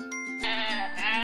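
A sheep lets out one close, clear bleat, a wavering nasal cry with a short lead-in before the full call, alone and fairly loud.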